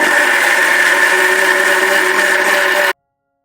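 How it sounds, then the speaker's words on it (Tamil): A mixer grinder blends roasted chole masala with a cup of water in a large jar: a loud, steady whirring motor grind that runs evenly, then cuts off abruptly near three seconds. "ஒரு பெரிய மிக்ஸி ஜாரில் போட்டுக்கிட்டு நல்லா 1 கப்பு தண்ணியை விட்டு நல்லா ஃபைனாக"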